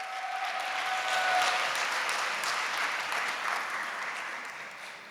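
Sustained applause fills the hall as family guests are welcomed onto the stage at a Korean church young adults' blessing talk concert, steady and fairly loud, fading slightly at the end.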